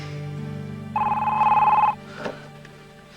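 A telephone rings once with a single bright, steady electronic trill lasting about a second, heard clearly indoors against a quiet room background.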